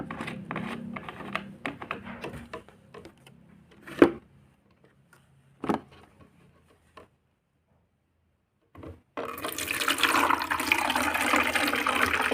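Water pours and splashes into an empty bottle in short bursts amid clunks and handling noises, then a loud steady rush of liquid near the end.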